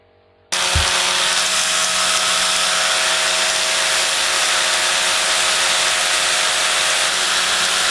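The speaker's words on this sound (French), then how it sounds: "Dernière phase, avec la finition manuelle de l'extérieur de la soudure." Hand finishing of a weld on a motorcycle fork yoke: a steady, loud abrasive rubbing and whirring that starts abruptly after a brief quiet moment and continues unbroken.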